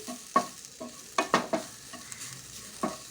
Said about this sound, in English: add grated coconut and mix it well till coconut turns slightly brown